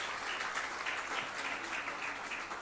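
Steady, distant applause fills a municipal council installation ceremony as newly elected council members are named, a continuous soft crowd patter with no single claps standing out.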